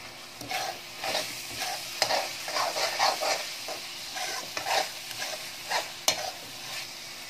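Turmeric being stirred into a spicy chicken curry in a pan, with repeated scraping strokes of the spoon over a steady sizzle of frying, close and moderately loud, no talk.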